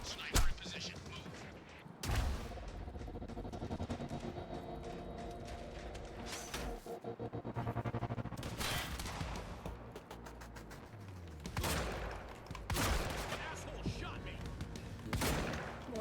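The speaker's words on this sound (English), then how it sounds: "We're under fire!" Video game gunfire from Quantum Break: repeated bursts of automatic fire and sharp shots rattle loudly through a noisy firefight, with voices shouting in between.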